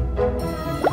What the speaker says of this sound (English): let's just see what happens when we put him in water.